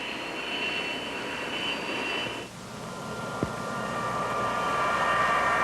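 A Convair F-106 jet fighter with a Pratt & Whitney J-75 engine roars past overhead, its whine steady at first, then briefly cutting out before a broad rushing jet noise builds and holds.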